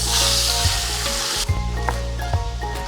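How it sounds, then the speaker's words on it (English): Meat sears in hot oil in an enamel Dutch oven with a steady, close sizzle that drops a little partway through, along with faint clinks and stirring. "if you put it into hot oil, it's gonna sizzle just like that"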